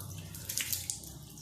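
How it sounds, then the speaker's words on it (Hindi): During wudu ablution, water is poured and splashed onto the face, giving a soft, continuous trickle with a few brighter splashes in the middle, close but quiet and without talk. "चेहरे पे पानी डालना है।"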